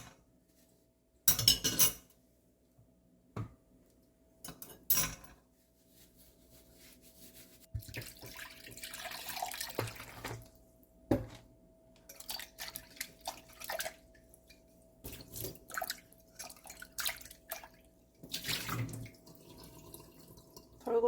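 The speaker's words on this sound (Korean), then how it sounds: "먹었으니 설거지를 해야 되는데 그 전에 일단은 좀 불려놓겠습니다." Dishes are washed by hand in a sink with a small amount of water: intermittent splashes and trickles, clattering cutlery and bowls knocking together, close and irregular with quiet gaps between bursts.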